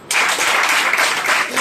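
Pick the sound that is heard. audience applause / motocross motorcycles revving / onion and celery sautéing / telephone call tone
audience applause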